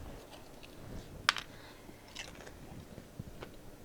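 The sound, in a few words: biting into a crunchy mini taco bowl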